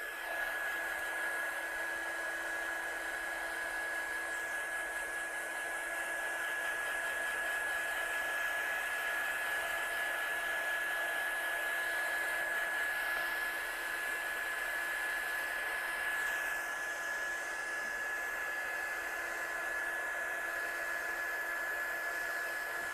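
A hair dryer blows on watercolour stamping work at a craft station, its steady high whine and airy rush holding unbroken and fairly close for over twenty seconds with no talking.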